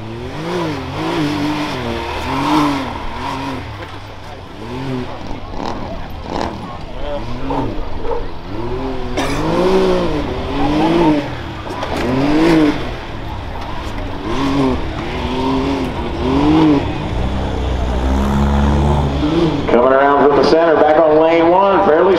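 Rough trucks race a county fair dirt course with whoops and big jumps, engines revving hard and rising and falling in pitch as they pass, loud and close, while an announcer talks over the action.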